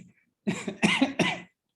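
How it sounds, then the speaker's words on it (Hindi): A person coughs in a quick series of three harsh, throaty bursts, close and fairly loud, after a moment of near silence. "मेरी खांसी छिड़वा दी।"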